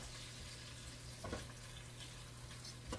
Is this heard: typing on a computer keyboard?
no